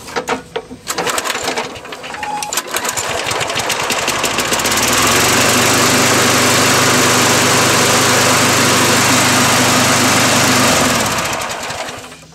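A Snapper 6.5 horsepower lawnmower engine is cranked with a few rough pulls, then catches and runs at a loud, steady idle for several seconds before cutting off near the end.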